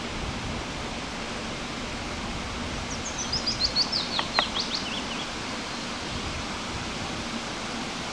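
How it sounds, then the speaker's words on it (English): A few quick bird chirps and tweets ring out briefly in the middle, faint against a constant roar of rushing water, along a railway trackbed in Scotland in spring. "You can just hear a few birds singing,"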